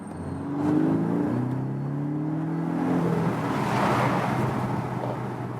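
A Porsche 718 Boxster S with a turbocharged engine accelerates from about 30 to 70 on a larger road, its engine note rising steadily in pitch through gears, heard from inside the car with road and wind noise.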